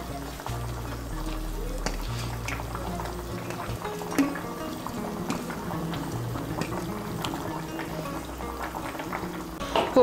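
A pan of kofta curry gravy bubbles at a steady boil, a soft, continuous burble with small pops heard up close under a low background hum, with no talking.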